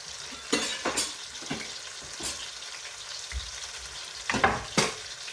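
Pot roast meat searing in a hot pan, with a steady sizzle under several sharp scraping and stirring bursts spread through the moment, close and fairly loud.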